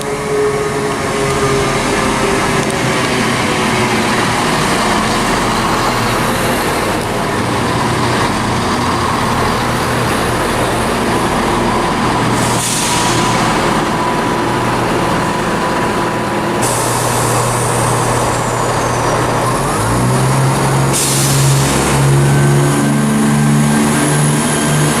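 Class 174 diesel passenger train departing Linlithgow station for Dunblane, a loud continuous engine and rolling rumble that rises in pitch and strength near the end, with no talk over it.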